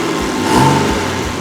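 The engine of an abandoned project car runs close by with a steady, loud mid-pitched drone, swelling briefly in a quick rev before settling, with no talk.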